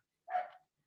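A single short, faint dog bark from pet dogs somewhere in a home, brief and isolated against silence, with a hint of another starting at the very end.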